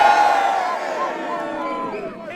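A crowd cheers and shouts at the Haxey Hood game, a traditional village scrum in Haxey. Many voices rise together in loud, sustained calls that waver and slowly fade over a couple of seconds.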